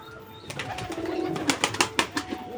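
Madras pigeons kept indoors coo and stir nearby, soft cooing that builds into a run of rhythmic throaty pulses toward the end, over a light room background.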